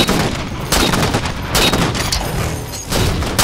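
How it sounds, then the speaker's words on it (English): Rapid, loud gunfire from the video game Halo 4, with dense overlapping bursts and booms firing almost continuously and no talk over it. "I just hear Carlos shooting and you shooting"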